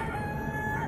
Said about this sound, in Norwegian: Med hane, selvfølgelig.